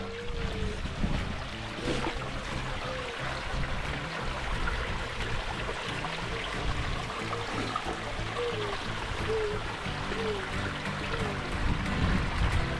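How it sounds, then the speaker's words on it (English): A small natural waterfall at Devil's Lake State Park gives a steady, close wash of rushing water that holds even for the whole stretch, with no talk over it. "A little natural waterfall."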